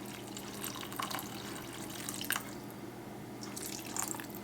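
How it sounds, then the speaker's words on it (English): Water trickles and drips into a crockpot of potatoes for a cheddar soup, faint and close, with a few brighter splashes standing out against a low background hum. "I'm going to add just a bit more water in here"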